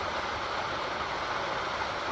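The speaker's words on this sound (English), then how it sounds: "there's another waterfall right there" A small waterfall pouring down a little stream into a pond on a hiking trail: a steady, close rushing hiss of falling water with no pauses and no voices.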